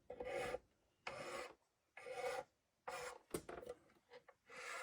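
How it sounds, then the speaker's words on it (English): A file rasps across the edge of a fiddle's nut in short, close strokes, about five rough passes separated by brief pauses, with no voices. "Taking this little edge off of the nut where it's cutting her fingers."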